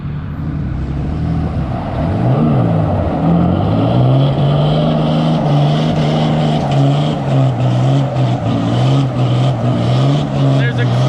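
Heavy diesel pickups, a tuned Cummins against a big-turbo Duramax, strain against each other in a four-wheel-drive tug of war, engines roaring loud and steady with rising and falling revs while people talk over the noise.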